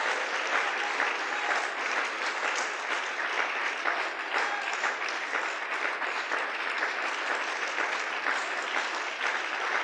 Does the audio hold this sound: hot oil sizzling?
no